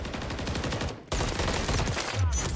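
Rapid gunfire in an online shooter game, dense repeated shots running nearly throughout with a brief gap partway, loud and close, ending with a low thump.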